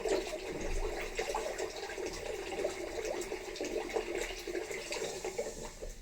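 Tap water runs steadily into a bathroom sink while wetting the face before a wet shave, a continuous close splashing hiss with no talk.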